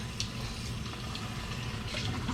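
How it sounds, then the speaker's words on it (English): Cold water streams steadily into a bowl of freshly churned homemade butter to rinse out the buttermilk, a continuous close, even rush of running water with no voices. "So get some cold water in there"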